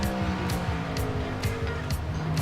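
Race car engine roaring steadily through a lap of iRacing at Texas Motor Speedway, a continuous loud drone with rhythmic rising and falling pitch as the car works through gears and corners.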